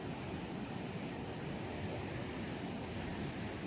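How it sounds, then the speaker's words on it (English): Athabasca Falls in Jasper National Park roars as a steady, broad wash of rushing water, unbroken and fairly distant-sounding, with no voices. "And of course the Athabasca Falls over there."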